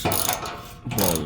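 Ratchet wrench turning 12 mm hex bolts on the front skid plate of a 2023 Toyota Tacoma during an oil change: two short close bursts of rapid clicking separated by a brief pause.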